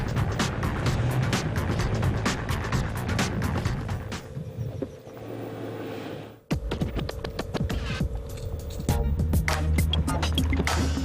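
A Toyota FJ Cruiser crawls off-road on its optional locked differential, its engine rising and falling in uneven bursts with knocks and rattles from rough ground, easing off midway and then pulling hard again.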